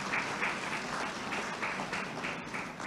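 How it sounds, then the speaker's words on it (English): An audience at an Independence investiture ceremony applauds, a steady wash of clapping that holds at moderate loudness for about three seconds with no voices over it. "Let us give the persons who did the nominations a resounding round of applause"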